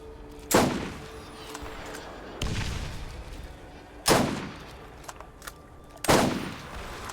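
SAM turrets fire in the Borderlands video game, giving four loud, booming blasts spaced roughly two seconds apart. Each blast fades into a rumbling tail over a faint background.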